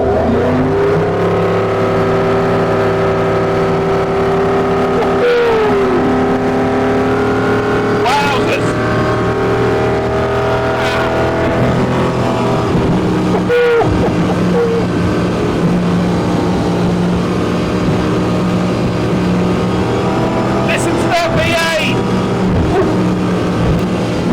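Loud, steady drone of a Centurion Fi23 motorboat engine accelerating on a river, rising pitch as it speeds up, a voice talking over the noise throughout.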